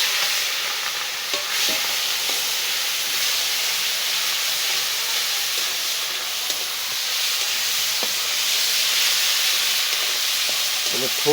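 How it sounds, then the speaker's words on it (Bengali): Bay leaves and dried chillies hit hot oil in a pan, giving a loud, continuous close-up sizzle and hiss with occasional light stirring clicks. "তেজপাতা, শুকনো মরিচ দিয়ে দিই।"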